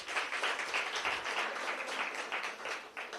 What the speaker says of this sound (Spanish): un aplauso fuerte a Jesús.